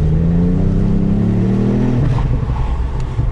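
A 2018 Ford Fiesta ST engine revs up loudly from inside the car, its pitch climbing for about two seconds before easing off into a rumbling exhaust; distinct pops are not clearly evident.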